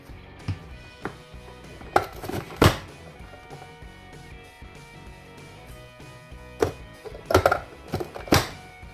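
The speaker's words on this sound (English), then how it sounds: "Now it is the potatoes' turn on the cutting board." A knife chops peeled potatoes into small pieces on a cutting board, with irregular sharp thunks in small clusters separated by quieter pauses, close and clear with light kitchen clatter.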